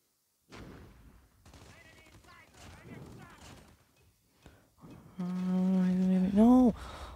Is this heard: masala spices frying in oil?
no